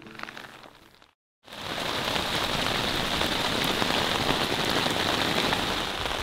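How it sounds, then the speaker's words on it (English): Steady, dense patter of rain drumming on a taut tent close by while camping in the remote Canadian wilderness, loud and constant after a brief silence. "It's raining."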